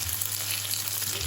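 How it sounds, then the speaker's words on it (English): Lamb stir-fried with onions, garlic, chili and Sichuan peppercorns gives a steady, close, loud sizzle and hiss from the wok throughout, with no voices. "Give it a nice stir before we add our sauces."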